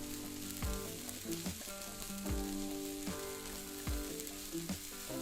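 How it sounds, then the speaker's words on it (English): Onions sizzling in a pan for a sausage potato casserole, a steady close frying hiss punctuated by regular clunks of stirring against the pan, no voices. "we're going to cook this until the onions become translucent"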